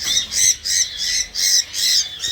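Pet birds squawk in a breeding aviary in five or six loud, harsh bursts in close succession, each call rising and falling with short gaps between, heard near and without talk.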